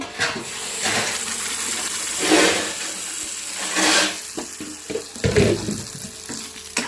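Tap water running into a sink while someone washes their face, a close continuous stream with bursts of splashing as water is scooped and thrown.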